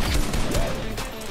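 Gunfire from another player in the Fortnite battle royale game, heard as brief, rough bursts of shots buried in dense, noisy game audio.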